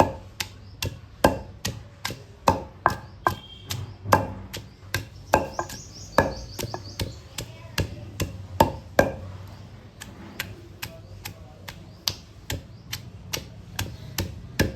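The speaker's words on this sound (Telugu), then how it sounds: "ఇట్లా దంచుకోవాలి మెత్తగా దంచుకోవద్దు కొంచెం కచ్చపచ్చ ఉండాలి" Raw mango being pounded coarsely for pickle in a mortar, with steady, evenly spaced heavy thuds, close and loud, continuing without a break.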